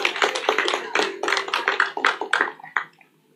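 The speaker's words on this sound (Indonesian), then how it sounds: "Tepuk tangan untuk bangsa Indonesia." A small audience gives a short burst of scattered clapping, a few seconds of uneven hand claps close by that thin out and stop.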